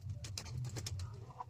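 Pigeons in a loft coo softly in a low, rolling murmur over a short stretch, fairly faint and close, with no one speaking.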